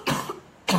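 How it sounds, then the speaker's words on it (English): A person coughs twice, a sharp burst at the start and another near the end, with a quieter pause between; close and fairly loud, no speech. "I have a cough."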